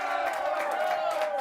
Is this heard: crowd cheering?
yes